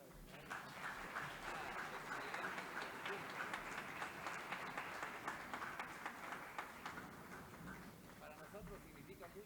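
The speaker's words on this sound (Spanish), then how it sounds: "Quiero pedirles un fuerte aplauso para el" Audience applause following a geopolitics conference presentation, a dense, steady wash of clapping lasting throughout with a few voices mixed in.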